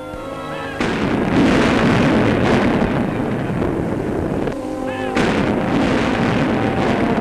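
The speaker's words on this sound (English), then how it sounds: "A battery of the 2nd Field Artillery fire a 21-gun salute." Artillery battery of the 2nd Field Artillery firing a 21-gun salute on an airport tarmac, heard as loud booming reports over steady wind noise and outdoor rumble.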